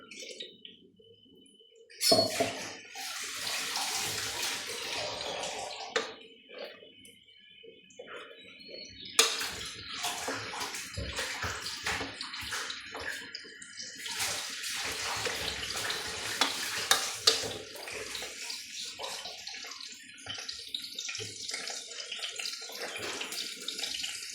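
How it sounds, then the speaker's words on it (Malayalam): A mixer jar is rinsed under a running tap to wash out ground coconut paste, with bursts of splashing water starting and stopping, loudest in short spells. "മിക്സിൻ്റെ ജാറ് കഴുകിയിട്ട് ഒഴിച്ചു കൊടുക്കുക"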